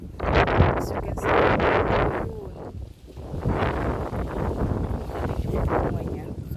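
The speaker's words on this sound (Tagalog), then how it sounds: "Kasi medyo malakas ang hangin guys." Strong wind buffets the microphone in loud, rumbling gusts on a farm, with a voice talking through the noise.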